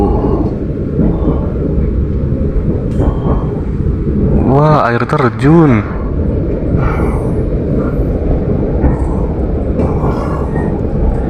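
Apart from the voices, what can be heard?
Brawijaya passenger train riding on rails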